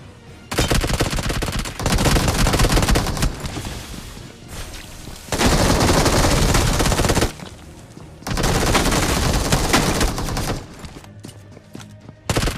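Sustained automatic gunfire in the battle royale game BGMI, in long loud bursts separated by short pauses, with a brief final burst at the end.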